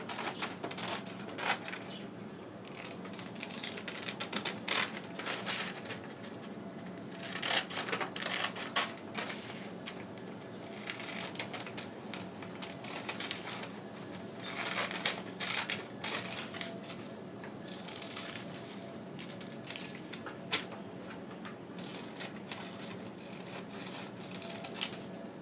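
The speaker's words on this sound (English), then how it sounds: "I'm now going to cut these pieces out." Scissors cutting out fabric pattern pieces for miniature pajama pants, a long run of close, crisp snipping and rustling of cloth and paper, with no speech.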